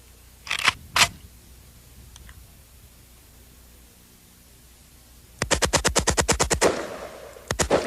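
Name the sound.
AK-47 fully automatic rifle firing repeatedly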